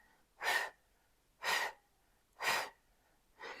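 Four short, breathy exhales come at an even one-per-second rhythm during Pilates pulses, close and fairly soft, with quiet between each breath.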